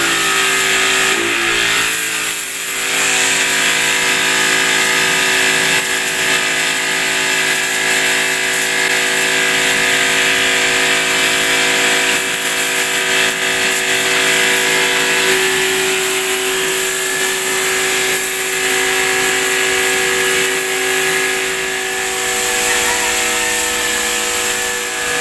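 A newly bought power sprayer motor runs steadily and loud throughout, with a sustained mechanical drone and buzzing whine that holds a constant pitch.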